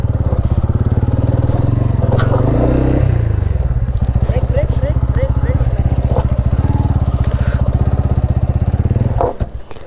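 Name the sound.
TVS Ronin motorcycle off-roading up a hill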